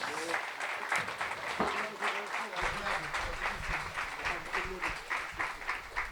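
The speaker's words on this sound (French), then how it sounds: "on peut les applaudir une dernière fois" Sustained audience applause fills an awards ceremony hall, a dense, continuous wash of many hands clapping that carries on for the whole stretch.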